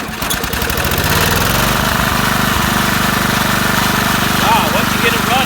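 A vintage Honda E2500 generator cranks and catches after a squirt of starting fluid, then settles into a steady, loud, close mechanical engine drone with a constant hum.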